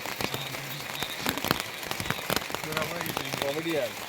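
Heavy rain pours down steadily as a dense, hissing wash with scattered sharp drop impacts, close and loud, while a voice talks over it.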